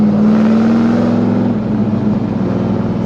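A 1969 Chevelle SS Yenko tribute muscle car's V8 drones close and loud at steady high revs, its pitch sagging slightly as the throttle holds.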